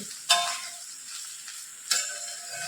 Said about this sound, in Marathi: हे बेसन आपल्याला भेंडी आणि बटाट्यामध्ये व्यवस्थित मिक्स करून घ्यायचं